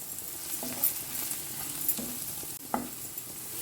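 Onion and tomato pieces frying in a pan with salt, chilli powder and turmeric, a soft steady sizzle broken by a few clinks and scrapes of a spoon stirring.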